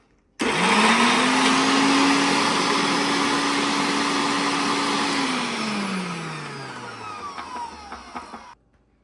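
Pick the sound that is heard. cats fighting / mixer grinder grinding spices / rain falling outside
mixer grinder grinding spices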